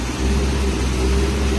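A 1974 Peugeot pickup with a faulty clutch runs its engine close by, giving a loud, steady low rumble and hum with no break.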